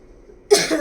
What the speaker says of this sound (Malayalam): സൗണ്ടും ചുമയൊക്കെ ഉണ്ട് സൗണ്ടിന് പ്രോബ്ലം ചുമയുണ്ട്